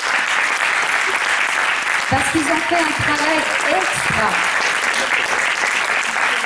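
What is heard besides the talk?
church audience applauding the young helpers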